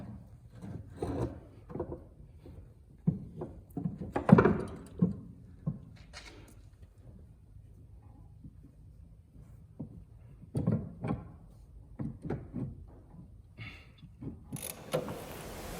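Metal parts of a 1975 MGB GT engine are wiggled and scraped into a knuckle joint, giving intermittent rubbing, knocks and ratcheting clicks close by with quiet gaps between.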